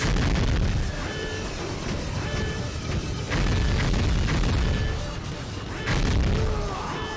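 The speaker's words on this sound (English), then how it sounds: "Oh, those are rockets!" Rockets detonate in the Gungrave game as a run of heavy, booming blasts, loud and continuous, with three big swells about every three seconds over rumbling debris.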